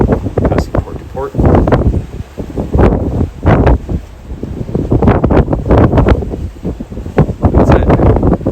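Strong wind at sea aboard a yacht on a delivery run from Hilton Head to Charleston, loud buffeting gusts battering the microphone in surging waves with brief lulls.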